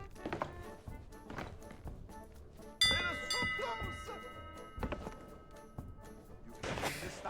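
A ringing starting bell in the pirate video game Sea of Thieves, a bright metallic ding that rises partway through amid clunks, taps and game background noise.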